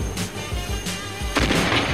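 Cannon fire in a radio drama chase scene, heavy booming blasts repeating in a steady rhythm over a loud, rumbling action background, with no voices.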